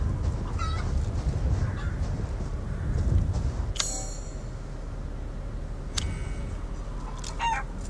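Chickens in the horror game Resident Evil Village cluck and cackle intermittently over a low rumbling in-game ambience, with a few sharp bright clicks scattered through.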